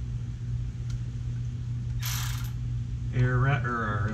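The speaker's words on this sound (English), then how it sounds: "electric ratchet here" A cordless electric ratchet spins a spark plug out of a 2015 Mustang GT engine, giving a brief high whirring burst near the middle, followed by a person talking close by over a steady low hum.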